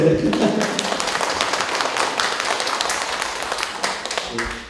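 An audience at a Paju city library 30th-anniversary policy concert claps in a fairly steady patter, with a voice briefly heard at the start and sharper taps near the end as the clapping thins.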